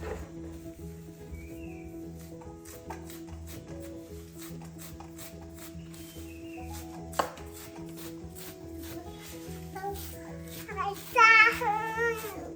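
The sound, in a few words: chopping pumpkin leaves with a knife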